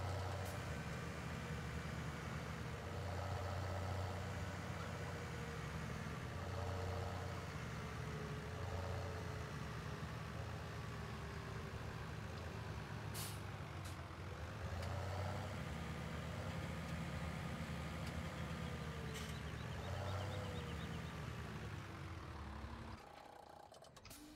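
Tractor engine from the farming game Farming Simulator 2017, a steady droning hum with tonal harmonics that rises and falls in pitch a few times over about twenty seconds, then cuts off abruptly near the end.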